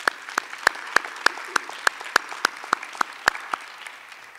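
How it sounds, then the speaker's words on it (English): Applause at a Student of the Year ceremony: a few people clapping in a steady rhythm of sharp, distinct claps that trail off at the end. "Please give them all a round of applause."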